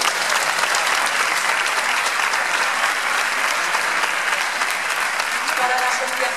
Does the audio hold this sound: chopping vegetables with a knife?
no